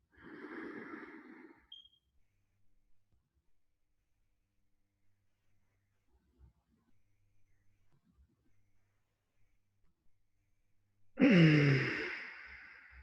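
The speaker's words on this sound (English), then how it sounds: "Take a deep breath." A deep breath in and out during a Tummo meditation session, audible as a soft breathy exhale at the start, a long quiet pause, then another louder breath near the end.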